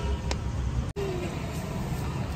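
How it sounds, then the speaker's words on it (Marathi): A car arrives with a steady engine rumble close by. A brief dropout cuts the sound for a moment. "आपली दुसरी पण गाडी आली"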